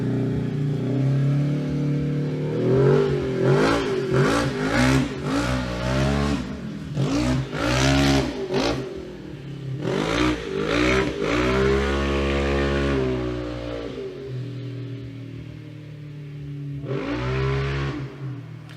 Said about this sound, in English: Neighbor apparently got a big old buggy that he's driving around, peeling out across the street